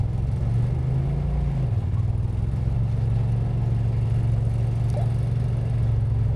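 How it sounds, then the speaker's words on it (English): A Polaris RZR's engine drones while the vehicle winches up a steep mountainside slope, a continuous low hum that dips in pitch early on and then holds steady, with no voices. "as soon as you see the winch get tight, give her a little gas"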